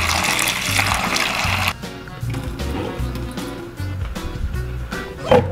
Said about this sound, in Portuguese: Deixa eu botar água ali pra ela.